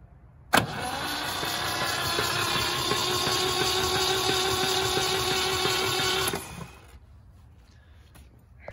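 A 1971 MGB engine cranking over on the starter without firing, a loud, even whirring churn that starts abruptly and runs about six seconds before cutting off to quiet.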